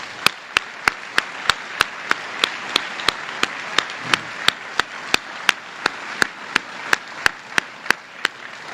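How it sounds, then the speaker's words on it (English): Audience applause at a sustainability conference, given as a speaker is welcomed, with a steady run of evenly spaced sharp claps sounding moderately close for nearly nine seconds, no voices over it. "Let's give him a round of applause."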